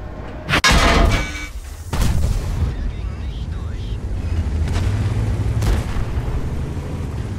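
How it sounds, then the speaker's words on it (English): Artillery shelling an enemy tank in World of Tanks, a heavy close boom opening the clip, then another blast around two seconds and fainter distant thuds over a low engine rumble. "I love when artillery shoots at the enemy tank"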